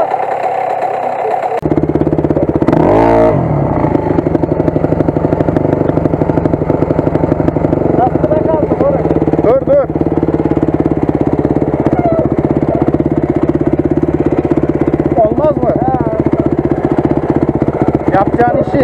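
Enduro motorcycle engine at a 2015 enduro event running steadily and close, with a rough mid-pitched drone and a few throttle swells, while people talk over it throughout.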